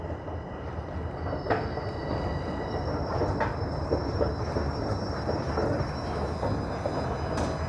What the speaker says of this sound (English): Sounds like we have a train rolling in.